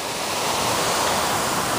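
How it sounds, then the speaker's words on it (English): Steady rushing spray of water, a dense broadband hiss that continues without pause, loud and close. "the kids are playing in front of a big geyser"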